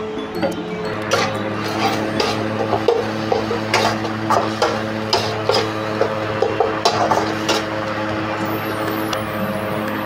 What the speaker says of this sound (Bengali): আন্দাজ মতো নুন ও চিনি দিয়ে একটু তেল দিয়ে আমি মশলাটা কষতে থাকবো।